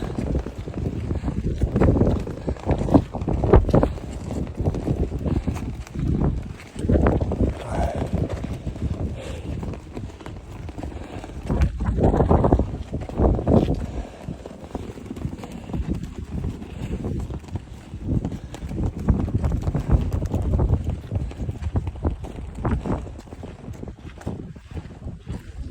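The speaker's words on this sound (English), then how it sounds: "We're now up here with the wind." Strong wind buffets the microphone on a high mountain near Everest Base Camp, a loud, rough roar with gusty surges and thumps running the whole time.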